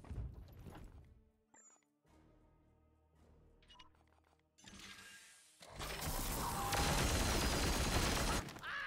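Scatter volley gunfire in Warhammer 40,000: Chaos Gate – Daemonhunters, starting with mechanical clanks and whirs, then erupting into a loud sustained burst of shots over the final seconds.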